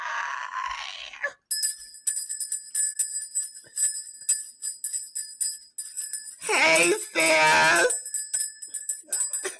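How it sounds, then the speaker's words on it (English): Sleigh bells jingle in a steady bright shimmer that runs for several seconds, with voices talking loudly before and after and briefly over the jingling. "I get jingle bells and everything"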